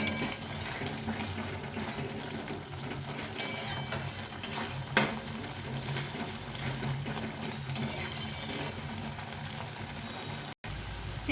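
Soybean chunks are stirred into a simmering masala gravy in a pan, with continuous scraping and clinking of a spoon against metal and a faint sizzle underneath, no speech.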